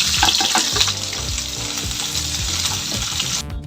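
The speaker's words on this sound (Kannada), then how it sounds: "ಸೊ ಕ್ಯಾಪ್ಸಿಕಮ್ ಹಾಕಿ ಇದನ್ನು ಸ್ವಲ್ಪ ಫ್ರೈ ಮಾಡಿ ಇಟ್ಕೊಳ್ಳೋಣ." Capsicum fries in a hot pan with a loud, dense crackling sizzle and some stirring clatter, close to the ear, before cutting off abruptly at the very end.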